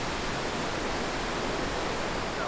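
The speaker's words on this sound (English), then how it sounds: "Pretty waterfalls in this really nice park." Steady, dense rush of falling water from a waterfall in a park, a continuous broadband roar that stays even and close throughout with no voices.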